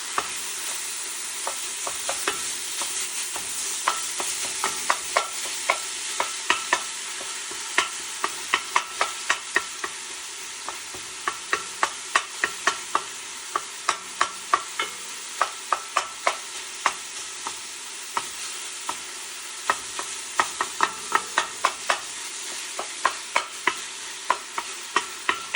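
Lasagna meat filling is stirred and broken up in a sizzling frying pan, with a steady hiss and frequent sharp clicks and scrapes of the utensil against the pan, close and without talk.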